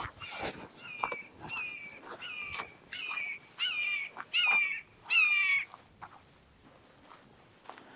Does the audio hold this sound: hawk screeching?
yes